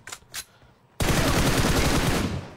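Gunfire in a video game, a couple of faint shots followed by a sudden loud, sustained burst of rapid fire that continues to the end, with no talking.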